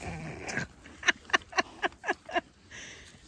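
Pigs eating all-natural grain feed on a cold day give a quick run of six short, rhythmic grunts, close and fairly clear, followed by a brief pause and a softer noise at the end.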